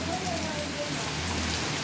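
Steady heavy rain pours down in rural Carnaubal, Ceará, Brazil, a constant dense hiss with a low rumble underneath and no clear voices.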